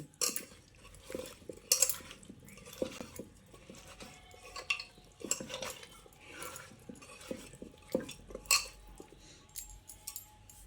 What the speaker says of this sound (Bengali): চিনিটা দিয়েও আরও একবার ভালো করে মাখিয়ে নিচ্ছি